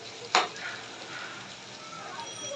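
A spatula clanks once against a pan as a bhaji of bottle gourd peel, flat beans and potato with onion and green chili is stirred, followed by a soft, steady sizzle of frying.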